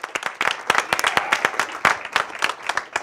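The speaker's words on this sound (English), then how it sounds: "I want to give a nice warm thank you round of applause to Peter Meissen." A small audience claps for a thank-you to Peter Meissen at a climate divestment talk; sparse, distinct hand claps in an uneven rhythm, close and moderately loud, with no speech over them.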